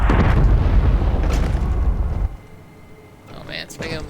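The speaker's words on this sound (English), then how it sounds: "it's making a little, like, explosion sound outside" A volcanic eruption at Red Mountain in a video game, a loud sustained rumbling blast with booming explosions for about two seconds that then cuts to a quieter background, with a voice talking afterward.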